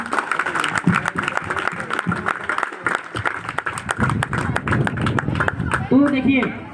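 An audience at a school farewell claps in scattered bursts while a voice talks loudly over the applause throughout.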